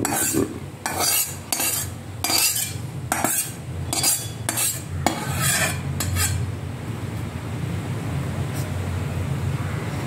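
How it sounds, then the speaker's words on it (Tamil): Coconut roasting in a pan for a banana flower puli kootu, with a spoon scraping and clattering in quick bursts over a soft sizzle that dies down to a faint hiss, and no voices. "தேங்காய் வறுத்து போடுறேன்"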